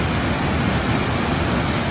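Paniyari waterfall on the Danta–Palanpur highway in North Gujarat pours in a steady, dense broadband roar, close and unbroken with no voices over it.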